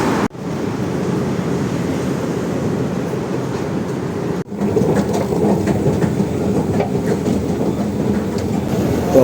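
An MRT train rolls past a sky bridge in Manila, a steady loud rumble with a clickety-clack of wheels on rail running throughout, broken by two brief dropouts.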